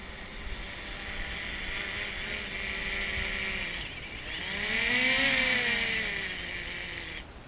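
A DJI Mavic Pro drone hovers close by during a hand launch and landing, a steady high whine with buzzing propeller tones that rise and swell in pitch midway, then cut out abruptly near the end.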